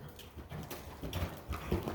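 Hooves of a young green horse under saddle clip-clopping steadily in an arena, a continuous rhythmic thudding close by over a muffled background.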